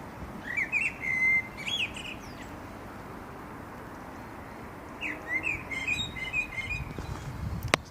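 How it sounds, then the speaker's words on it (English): A blackbird sings its evening song at dusk on an allotment in late March after sunset, with short fluty phrases in two bursts at the start and near the end, fairly distant over a low background hiss. "That's the blackbird."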